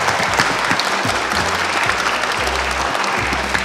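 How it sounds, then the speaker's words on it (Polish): Applause from an audience at a film-themed debate contest after the jury's verdict, a steady dense clapping that fills the room for the whole stretch, loud and continuous with no talk over it. "ogromne brawa dla dziewczyn z Gliwic"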